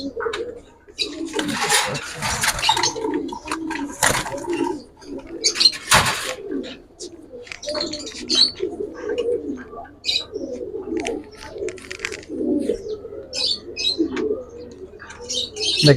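Young Giribaj flying pigeons of a silver, aluminium-silver bloodline coo repeatedly in a loft, a busy overlapping murmur with chirps, wing flutters and handling noises, while people talk nearby.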